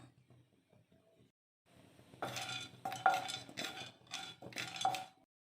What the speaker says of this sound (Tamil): ஸ்டவ்வை மீடியம் ஃப்ளேம்லேயே வச்சுட்டு பெருங்காயம் இந்த அளவுக்கு ஆட் பண்ணி ட்ரை ரோஸ்ட் பண்ணிக்கலாம்.